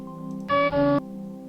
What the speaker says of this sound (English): That's the sound of there's an enemy unit!